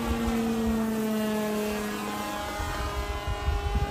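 An RQ-7 Shadow RC model airplane flies overhead at about 60% throttle, its propeller engine giving a steady buzzing drone with a slowly falling pitch as it passes, fairly close and alone.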